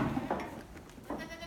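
Goats bleat inside a snowbound barn shelter during a South Dakota blizzard, a couple of short, close, wavering cries in quick succession.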